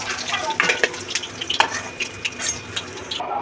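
Fish frying in hot oil in a kadai, a continuous crackling sizzle with irregular pops and spatters, broken by clinks and scrapes of a utensil against the pan.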